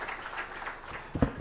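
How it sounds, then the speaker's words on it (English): An audience at a formal Kenyan economic report launch claps for the guest of honor, a faint, steady patter of hands with a brief voice near the end. "Let's clap for the guest of honor."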